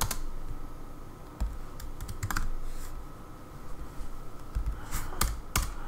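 Typing on a computer keyboard to enter a web design project title, with steady close key clatter in short bursts and a few sharper, louder keystrokes standing out, no voices.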